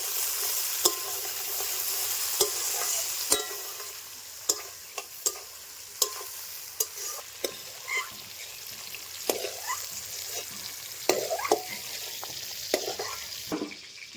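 Raisins and peas fry in oil in a pan, a soft, steady sizzle with a series of sharp spoon taps and scrapes against the metal as the pieces are stirred, at moderate loudness.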